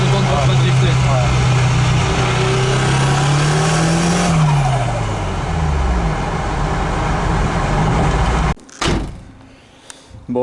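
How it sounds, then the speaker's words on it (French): A car drifts with its engine revving hard and sweeping up and down in pitch, tyres skidding loudly under a steady roar before the sound cuts off abruptly near the end. "parce que c'est ça que tu vas entendre quand tu vas drifter"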